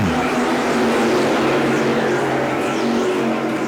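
Modified race cars roar together at Thompson, a loud, sustained wall of engine noise from a tight pack racing on the oval, steady throughout with no pause.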